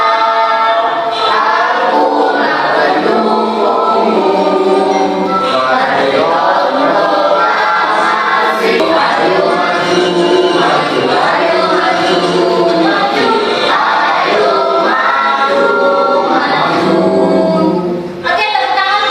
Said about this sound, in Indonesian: Silahkan kalian menyanyikan